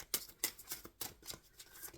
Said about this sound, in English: I am shuffling for the concluding message for our Libra Collective